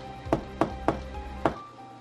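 Four sharp knocks on a table in a supposedly haunted house, evenly spaced and close, each a hard hollow rap, followed by quiet.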